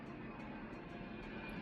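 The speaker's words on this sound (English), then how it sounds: "wait, airplane" An airplane passes overhead as a steady, broad low rumble that fills the whole moment at a faint, distant level.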